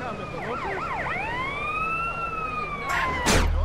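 A police car siren in the video game GTA San Andreas wails up and down several times, then holds a long, gliding tone before a short burst of noise and a low thump at the end.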